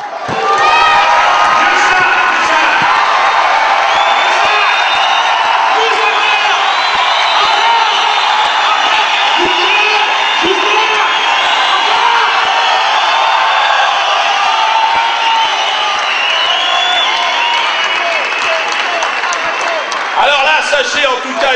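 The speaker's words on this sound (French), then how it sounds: "Je vous demande d'applaudir M." An indoor audience bursts into loud, sustained applause mixed with cheering and whoops, a dense crowd roar that holds steady throughout.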